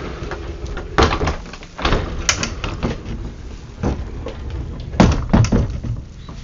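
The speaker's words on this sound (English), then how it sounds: "This is a double stacked pocket door right here that will extend all the way over." A double stacked pocket door in a 2022 Renegade motorcoach being slid along its track, heard as a series of rumbling rolls and knocking thumps in uneven bursts, with several sharper clacks near the end, close by.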